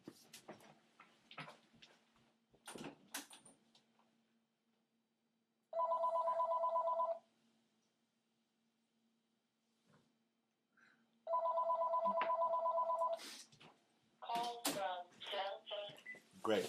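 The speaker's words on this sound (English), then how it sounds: "Right when I go away, the phone rings in your ears." A telephone rings in two long bursts of electronic trilling several seconds apart, clear and fairly close, with quiet room noise and brief sounds of movement before and after.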